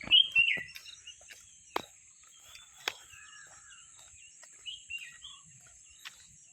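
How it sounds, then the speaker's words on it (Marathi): Sparse morning bird chirps and calls in a quiet outdoor setting in the Konkan, a few clear tweets at the start and scattered calls after, with a faint insect hum behind. "आणि पक्ष्यांचा किलबिलाट तुम्हाला ऐकायला येत असेल."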